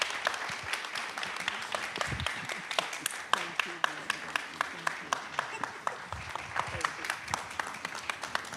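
Applause for a history panel from the audience, a sustained patter of many hands with sharper individual claps standing out, moderately distant, while a voice speaks over it.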